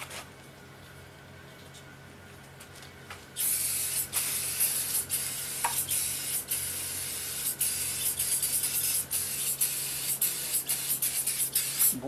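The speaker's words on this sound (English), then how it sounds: "I like to use this tire shine." Tire shine sprayed from an aerosol can onto a Monster Moto mini bike: after a few seconds of quiet, a loud, close, steady spray hiss begins and runs on with short sputtering bursts.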